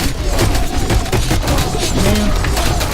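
Dense, continuous bursts of gunfire and booms in a stickman video game crackle throughout, loud and busy with no pauses.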